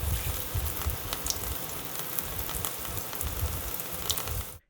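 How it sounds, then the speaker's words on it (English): Foley rain made with water splashing onto a sponge in a deep metal sink basin, a dense continuous patter with a hollow low-end rumble, steady and close until it cuts off abruptly at the end. "recorded water splashing onto a sponge in a deep basin, which gave me a much more low-end, hollow type of rain sound"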